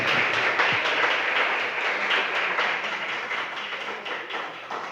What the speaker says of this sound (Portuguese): Eu queria que você agora ficasse de pé e aplaudisse o nome do Senhor Jesus